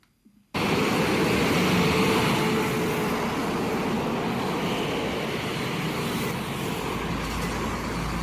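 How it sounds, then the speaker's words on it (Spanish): Road traffic in Chile, a steady broad rumble of passing vehicles starting abruptly after a brief quiet moment, with no horns, continuous and moderately loud. "Esto es el tráfico, el sonido del tráfico"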